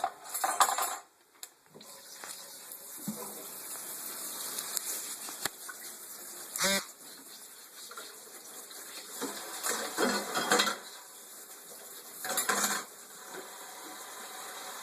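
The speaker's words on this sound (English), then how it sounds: "Go over here, rinse all these dishes off." Dishes and cutlery rinsed in a kitchen clean-up after cooking: intermittent clinks and clatters of utensils against pots and plates over steady running water, moderately close, with no talking.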